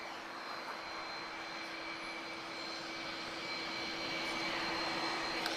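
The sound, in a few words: airliner with GE CF6 jet engines at Lisbon Airport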